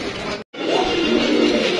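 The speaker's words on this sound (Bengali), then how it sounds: "এই যে কোকাটা এটা ব্ল্যাক কোকা এ ডাকতেছে" A big black male Baghdadi homer pigeon in a loft coos in a low, steady run, close and fairly loud, with one brief break near the start.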